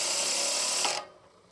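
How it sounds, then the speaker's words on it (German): A cordless drill spins a mower spindle during backlapping, giving a close, steady whirring and grinding rasp that runs for about a second, then cuts off abruptly, leaving faint quiet. "damit ihr eben hier mit so einem Akkuschrauber, da muss ich auf Stufe 2 gehen, ganz einfach backlappen könnt"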